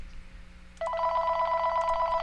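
A telephone rings with a steady electronic trill that starts suddenly and keeps going, clear and fairly close over a faint low hum.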